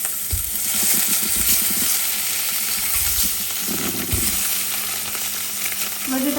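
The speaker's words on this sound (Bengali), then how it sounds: "মানে ফ্রাই প্যানটা ধরে এটাকে এভাবে নাড়াবেন, দেখবেন ডিম অটোমেটিকলি লাল হয়ে যাচ্ছে" Eggs frying in a pan with half a spoon of turmeric, a steady loud sizzle with scraping and shaking of the pan, occasional clinks and thumps as it is stirred.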